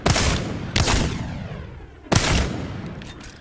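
Gunfire in the shooting game Apex Legends: three sharp loud bursts at roughly even intervals, each followed by a rolling reverberant tail, with no talking.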